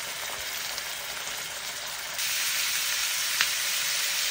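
Garlic and thin strips of chicken breast frying in a hot pan give a steady, close sizzle and hiss with no pauses, growing a little louder partway through, with a brief crackle near the end.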